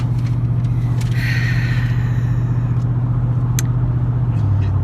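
Steady car engine drone while driving on a road trip along Route 66, loud and continuous with an even low hum and faint road noise, no talking.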